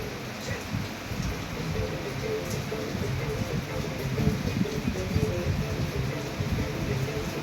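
Rain falls steadily outside a house, a dense, even hiss of drops with a low rumbling undertone, continuous and moderately loud throughout with no voices heard.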